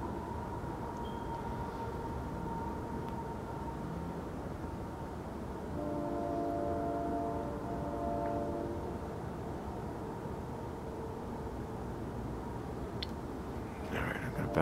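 A distant train whistle sounds as a sustained, steady multi-tone horn lasting a few seconds in the middle, well below a constant rumbling outdoor background at night.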